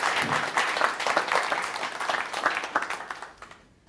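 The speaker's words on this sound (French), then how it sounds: "Eh bien, on peut l'applaudir" An audience applauds a painter who helped make a stage set, dense steady clapping from a fairly close crowd that fades out toward the end.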